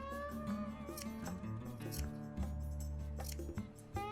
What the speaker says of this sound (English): I'm going to use good scissors. And I'm going to just make little slits in this